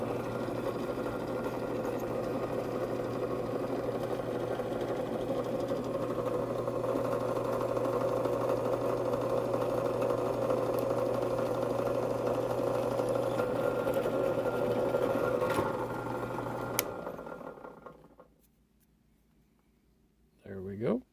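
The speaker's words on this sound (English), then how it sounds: "we'll go over to the drill press and we'll drill this out" A drill press runs with a steady motor hum while drilling a pivot hole through a pocket knife blade, continuous and close for about seventeen seconds before spinning down to near silence.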